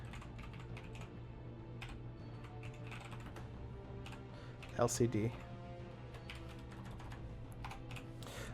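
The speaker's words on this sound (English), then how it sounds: "My typing skills could be better." Fast typing on a computer keyboard while playing Space Engineers, an irregular run of soft, close key clicks under a steady low hum, with someone speaking briefly partway through.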